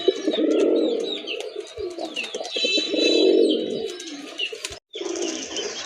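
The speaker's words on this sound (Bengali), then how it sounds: "দেখেন খুবই চমৎকার একটা রাজগোল্লা নট কবুতর" A Rajgolla pigeon coos in deep swelling bursts close by, two long phrases with small chirps and rustles between them and a brief drop to silence near the end.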